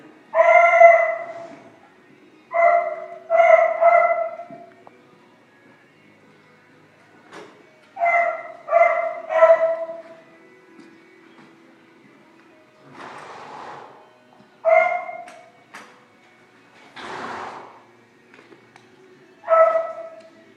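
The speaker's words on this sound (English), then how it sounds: "The dog's barking" A dog barks at a horse barn in spaced bursts of two or three loud, close barks, with quiet pauses and a few softer whines in between.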